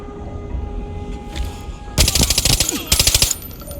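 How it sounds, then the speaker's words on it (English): Automatic gunfire from the shooter game Arena Breakout, two sharp rapid bursts of shots cutting in over a low rumbling background. "I take a couple shots trying to push him back"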